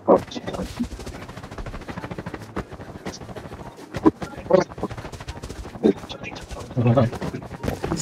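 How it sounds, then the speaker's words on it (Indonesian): Enemy gunfire in the shooter game Free Fire crackles in rapid, repeated bursts throughout, mixed with players talking over it. "Dia nembak."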